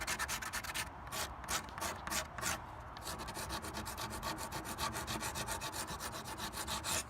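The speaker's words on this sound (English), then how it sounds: "when I go over it with my drill with that sanding disc that I got on it" Drill fitted with a sanding disc smoothing power-carved wood on a fairy house door, a continuous close rasping, rubbing drone with brief pulsing strokes early on, steady and alone without speech.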